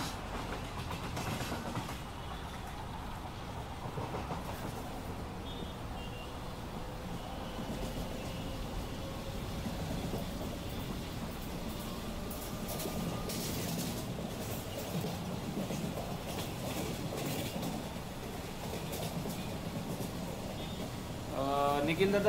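Virar–Andheri local electric trains on an Indian suburban line rumble past with continuous rolling and wheel clatter, moderately near and steady throughout, with people talking intermittently.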